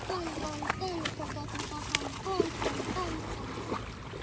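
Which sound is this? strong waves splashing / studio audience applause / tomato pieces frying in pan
strong waves splashing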